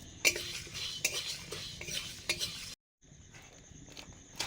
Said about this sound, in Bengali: কিছু গোটা মশলা ভাজা লাগবে, সেগুলো ভাজছি।